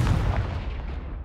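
The Confringo explosion spell erupts in the video game Hogwarts Legacy as a loud, dense, rumbling blast that fills the moment and then fades over about a second, heard alone without voices.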